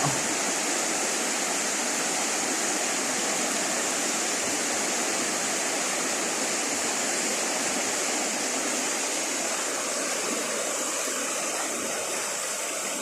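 Strong floodwater in Bohol rushing near a bridge, a loud, steady, broadband roar of churning water that continues unbroken throughout with no voices.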